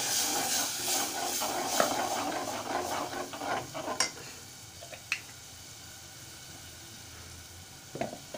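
Ground masala paste for a Malvani crab curry added to a hot pan and stirred, crackling and sizzling loudly at first with scraping strokes, then settling to a quieter hiss punctuated by a few sharp spoon knocks.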